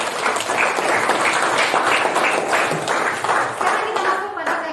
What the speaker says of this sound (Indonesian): Berikan tepuk tangan untuk diri sendiri.